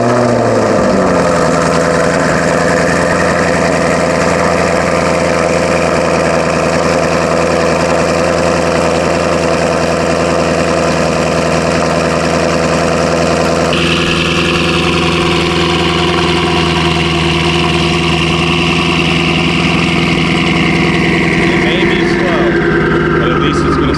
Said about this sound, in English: let's go ahead and get a cold start and head to the drag strip.